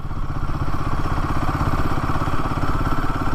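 Royal Enfield Himalayan 450 motorcycle engine lugging at low speed in gear, a steady close-up thrum with a rough, clattering pulse that never lets up.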